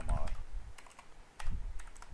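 Keys clack on a computer keyboard as a ChatGPT prompt is typed, with two clusters of quick, light taps separated by a short pause. A voice is heard briefly at the start.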